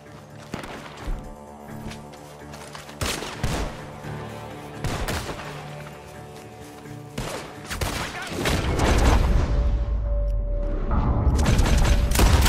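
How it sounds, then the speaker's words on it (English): Bursts of gunfire crack out repeatedly from a bar in Red Dead Redemption 2, some in rapid volleys, over a rumbling, rising din of explosions and action near the end. "Gunshots are coming from that bar!"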